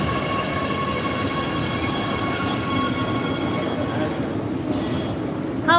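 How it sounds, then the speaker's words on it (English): A train pulls into a station in Oslo, Norway, with a steady loud rolling rumble, sustained metallic tonal whine and faint squealing of wheels throughout, ending with a brief louder burst. "Our train is coming."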